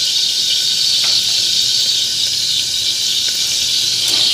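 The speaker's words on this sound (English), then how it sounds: "The butter is sizzling." A steady high hiss of butter sizzling in a pan, constant and close, with no talking.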